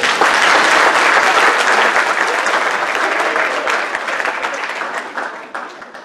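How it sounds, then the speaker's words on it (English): A school concert audience at Pocomoke High claps warmly, a full, steady round of applause that holds strong and then tapers off toward the end. "Give yourselves a round of applause."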